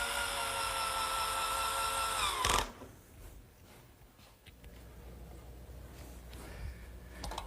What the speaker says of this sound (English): I'm just using a couple screws at each joint to act as pins